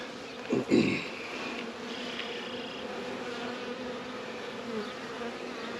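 A honeybee swarm buzzes steadily at the hive, a dense, continuous drone of many bees heard close up, with a couple of louder nearby fly-bys near the start and no one talking.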